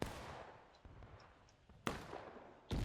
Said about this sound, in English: Oh, there's a cannon. The cannon's about to fire.